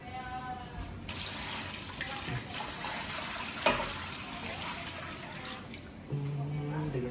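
Water poured into a cooking pot for bulalo with onions, a continuous rushing, splashing stream that fades near the end, while a voice talks faintly in the background.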